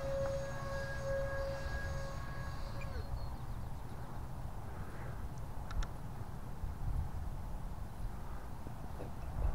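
Freewing RC F-16 jet with a 64mm EDF on 4S power flying at full throttle, a steady airy ducted-fan whine and rushing roar at distance, with a brief rising tone early on and wind buffeting throughout.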